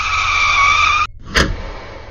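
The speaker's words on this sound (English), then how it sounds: "Suddenly, a car came out of nowhere and I ended up ramming it right on the driver's side." Car crash sound effect: a loud sustained tire screech cuts off abruptly, followed by a single sharp, heavy impact that quickly fades.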